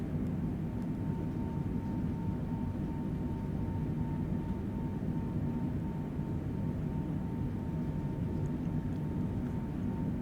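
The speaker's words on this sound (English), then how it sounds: "Let's take this plane up in the air" Constant cabin drone of a Boeing 747-8 airliner in flight in Microsoft Flight Simulator, a steady low roar with a faint tonal hum, unchanging throughout and no talk.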